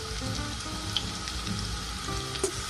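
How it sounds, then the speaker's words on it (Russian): Chopped onion and garlic with tomatoes sizzle steadily in olive oil and butter in a hot frying pan, a close, even crackle with no talking. "И всю эту красоту обжариваем в течение примерно 2-3 минут."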